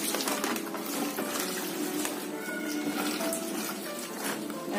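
Sanitizing water poured over packaged grocery items, a continuous splashing, tap-like flow close by, with no speech.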